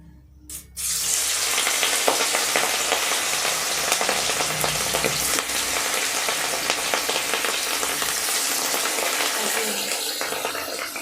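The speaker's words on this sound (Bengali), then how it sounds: "এরপর আমি মাছগুলোকে ভেজে নেব" Fish pieces rubbed with salt and turmeric hit hot oil, and after a brief quiet start a loud, dense sizzle with crackling pops bursts out and holds steady.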